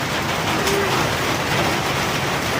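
Steady rain noise fills the scene, a dense broadband hiss of falling water that stays constant and fairly loud throughout.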